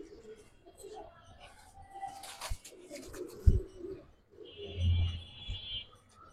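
Giribaz pigeons coo at a bird market, low repeated coos and rustles up close, with people talking nearby.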